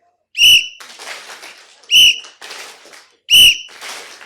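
Three sharp, loud whistle blasts at even intervals, each followed by a scatter of softer clapping from a group.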